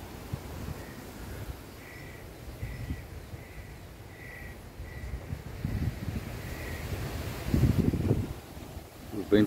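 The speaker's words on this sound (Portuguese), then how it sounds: "O vento está forte" Strong wind gusting across a rural yard with a greenhouse and planned chicken coop, low buffeting rumble swelling toward the end, with a crow cawing repeatedly in the background.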